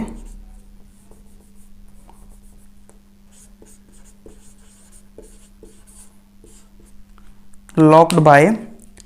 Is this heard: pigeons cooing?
no